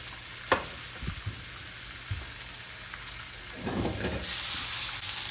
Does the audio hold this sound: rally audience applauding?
no